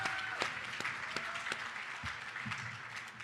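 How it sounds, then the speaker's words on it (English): An audience at an awards ceremony claps steadily, a dense wash of applause filling the clip at moderate distance. "Give a round of applause to yourself."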